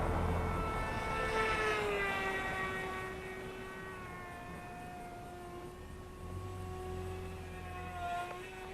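A Volantex Ranger G2 1200mm sport glider flies outdoors in the morning, its electric motor giving a steady, droning whine whose pitch drifts and sags as it passes. Wind noise runs underneath throughout.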